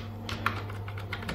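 Quick light clicks of typing on a computer keyboard patter unevenly at close range over a steady low electrical hum.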